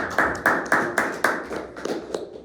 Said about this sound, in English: we can show him that we appreciate him by just giving him a hand clap